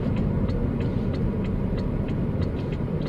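A 2017 BMW X5 35 M Sport in sport mode, heard from inside as a steady low engine and road rumble holding level throughout, with faint regular clicks above it.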